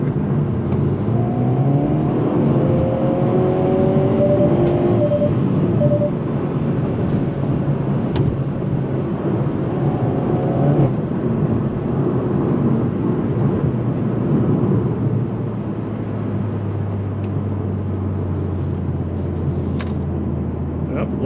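A 2022 Hyundai Veloster N with an 8-speed automatic drones steadily as it corners on a winding public road, its engine a continuous mid-level hum beneath someone talking throughout.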